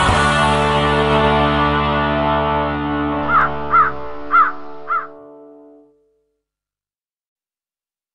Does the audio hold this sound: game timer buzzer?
no